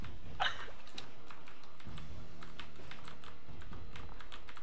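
Rapid typing on a computer keyboard, with steady, close key clicks and a slightly louder clack near the start, with no voices over it.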